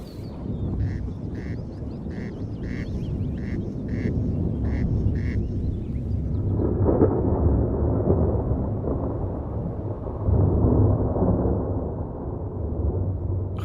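Deep thunder from a thunderstorm rumbles and rolls continuously, swelling louder in the middle and again near the end. A quick series of rhythmic clattering calls runs through the first half.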